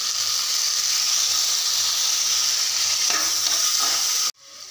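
Onions and garlic fry in ghee with a loud, dense sizzle and faint stirring scrapes, and the hiss cuts off abruptly near the end, with no one talking.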